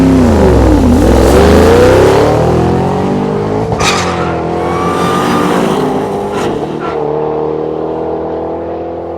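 An all-motor 2011 Mustang GT launches and accelerates hard down a drag strip, a loud close engine roar climbing through the gears with clear shift breaks, then fading as the car pulls away.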